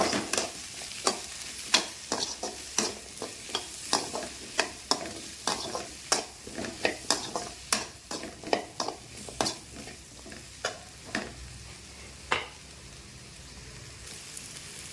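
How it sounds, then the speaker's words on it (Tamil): Turmeric powder sizzles in a pan as a spoon stirs it while a mango curry is cooked, with a soft frying hiss under a series of sharp, rhythmic scraping strokes that thin out toward the end. "இதை கொஞ்சமாக மஞ்சள்தூள், அதையும் வதக்கிவிடலாம்."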